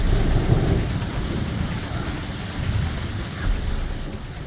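Steady heavy rain pours down with rumbling thunder during a thunderstorm on a boat holiday, a dense continuous wash of drops close by with deep low rolls swelling and fading throughout, no voices.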